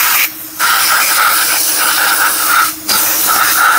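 Loud, close, steady hiss of cleaner sprayed onto the clutch of a Honda GX35 clone grass cutter, two long bursts broken by short pauses.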